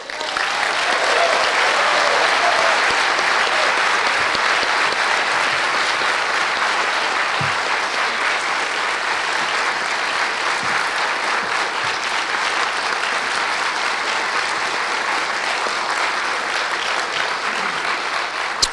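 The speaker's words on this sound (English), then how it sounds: "give all of our panelists a round of applause" A town hall audience on the future of the media gives its panelists a long, steady round of applause, dense and loud throughout with no talk over it.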